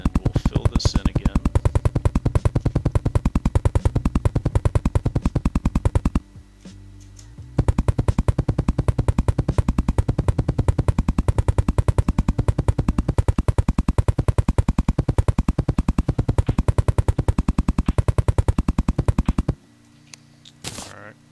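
Blocks placed one after another in Terraria while building a starter base: a fast, steady stream of tiny clicks running for long stretches, broken by two short pauses.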